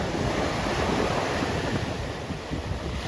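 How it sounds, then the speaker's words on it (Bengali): Sea waves roll and break on the beach at Digha at night, a steady loud roar of surf with wind buffeting the microphone throughout, no voices. "যত রাত বাড়ছে তত আস্তে আস্তে ঢেউটাও বাড়ছে"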